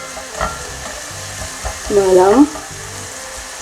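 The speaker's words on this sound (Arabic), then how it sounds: "نبقى نقليوه كنخليو البوط على جهدها" Food fries in a pot on a hot stove with a steady, soft sizzle throughout, and a louder crackle near the middle as a person speaks briefly.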